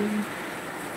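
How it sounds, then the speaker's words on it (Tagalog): Heavy rain pours down as a steady, even broadband hiss that fills the whole second, with a brief low hum at the very start and no pauses in the downpour. "Malakas ang ulan for today's video."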